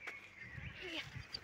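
A duck quacks at a zoo, a few short nasal calls close by amid outdoor murmur and faint voices.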